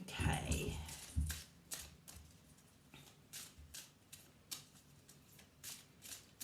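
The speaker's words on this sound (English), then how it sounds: "Wow, big shuffle." Tarot cards being shuffled by hand in a series of quick riffling and tapping bursts, close and fairly quiet, with a brief low thump near the start.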